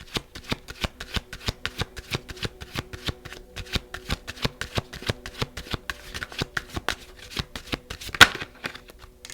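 A tarot card deck is shuffled close by, with a steady run of crisp riffling card snaps that continues for several seconds and ends in one sharper tap.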